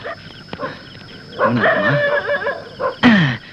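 Dog barking in a comedy scene from the Tamil film Government Mapillai: a few sharp barks and yips, the clearest near the end, loud and close over a busy background.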